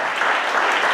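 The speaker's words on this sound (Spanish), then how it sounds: "Denle un fuerte aplauso a Jesús" A church congregation claps loudly together in praise, a dense, even burst of many hands with no break.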